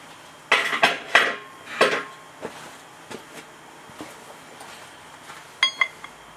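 Metal clinks and light knocks as a steel spider gear is slid and tapped onto freshly milled 19-spline axle shaft ends for a custom Dana 44 axle, several sharp close contacts early, then sparser taps.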